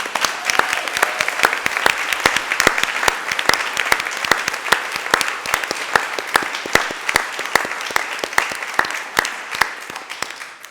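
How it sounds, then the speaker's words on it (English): A room of attendees at a college district board of trustees meeting applauds a group of standing participants, sustained clapping with distinct individual claps audible throughout and fairly close. "Let's give them a round of applause."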